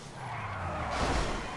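A Truffade Z-Type car drifts in Grand Theft Auto V, its engine drone rising into a broad skidding tire hiss that swells toward the end of a short burst.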